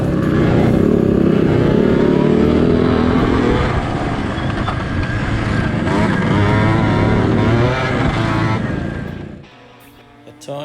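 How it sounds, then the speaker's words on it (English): Small 50 to 100 cc motorbikes race at the Garlic Masters track, a loud dense blend of revving engines buzzing and overlapping before fading away near the end. "this was the beginning of the race for the really little bikes"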